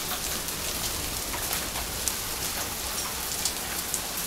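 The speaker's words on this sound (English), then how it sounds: "Serious hail." Heavy hail storm falling outdoors at a house, a dense, steady roar of ice pellets striking surfaces with occasional sharper hits standing out.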